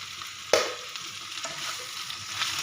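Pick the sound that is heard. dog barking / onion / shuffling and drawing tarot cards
onion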